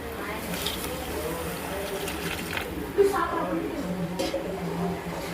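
Hot water poured into a pot for chicken khichdi, a steady liquid rush and splash beneath someone talking, with one brief knock partway through.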